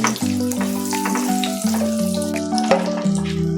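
Garlic frying in butter in a pan gives a steady, close sizzle that runs throughout under tuneful background music, with no speech.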